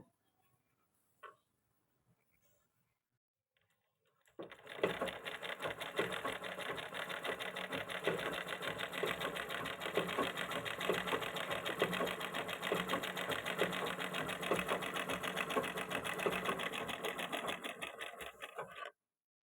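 After a few faint clicks and some near-silence, a sewing machine starts up and stitches two pieces of cloth together without a knot, running in a fast, steady rattling whir that goes on unbroken for about fourteen seconds.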